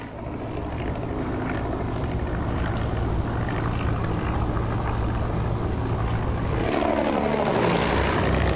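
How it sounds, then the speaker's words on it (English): A WWI-era SE-5 fighter biplane takes off with a loud, continuous propeller-engine drone and rushing wind, holding steady before swelling and brightening near the end. "he takes off in his SE-5,"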